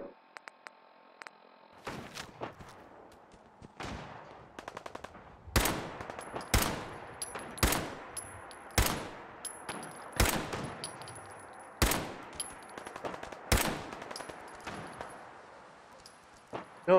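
Gunfire in Fallout 4, heard as a series of sharp, spaced gunshots roughly every second or two, some with rattling tails, standing out against a quiet background.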